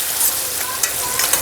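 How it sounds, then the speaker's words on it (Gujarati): Sugar water boiling hard in a pan over a high gas flame for sugar syrup, giving a steady, close bubbling hiss with small pops throughout. "અત્યારે આ ફાસ્ટ ગેસમાં જ તે હું સાકરનું પાણી બાળું છું"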